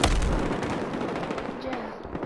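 Shotgun blasts in the shooter video game Battlefield Hardline, heavy and continuous with dense booming reports packed together, loud and close, with a voice faintly under the gunfire.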